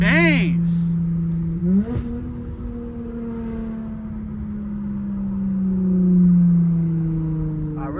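Tuned V6 Dodge Charger engine droning while driving in the rain, a steady low tone that rises and falls with gear changes and revs, with speech at times over it.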